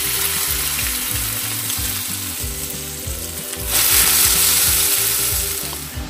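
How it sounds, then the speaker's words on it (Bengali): Kolkata-style chow mein noodles fry in hot oil with garlic, giving a loud, continuous sizzle with rhythmic scraping and stirring strokes close by. "চাউমিনটা ভালো করে ভেজে নেব।"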